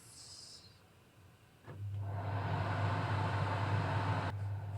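A BRS 8A multifuel stove burning off gas: after a quiet start, a steady low hum and soft roar rise abruptly and hold evenly close by, with no voices.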